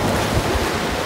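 Sea waves wash in from the backwaters along a beach at Dhanushkodi, a steady close rush of surf with heavy wind buffeting the microphone throughout, no talking.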